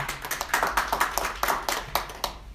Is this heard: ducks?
no